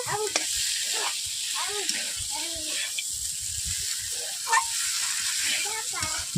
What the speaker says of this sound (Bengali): ফুলকপি আলুগুলোকে কষিয়ে নিচ্ছি।